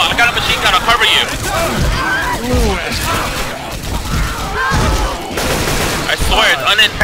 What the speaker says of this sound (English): I got a machine gun, I'll cover you!